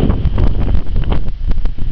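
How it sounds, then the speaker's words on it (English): Strong winter wind on a January night near Lake Huron, a loud, steady roar buffeting the microphone with continuous low rumble and gusty surges throughout, no voices. "we have a very strong wind tonight"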